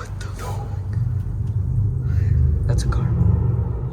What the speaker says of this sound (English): Oh yeah, that's a car.